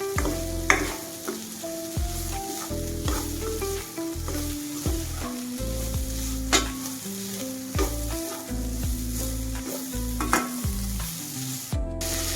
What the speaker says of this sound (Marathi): ह्याला एकदम व्यवस्थितरित्या परतून घ्यायचं आहे, भाजून एकजीव करून घ्यायचं आहे सगळं.